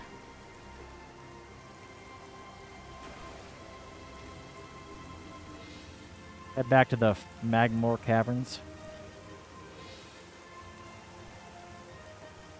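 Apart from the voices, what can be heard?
rain in a video game, Metroid Prime Remastered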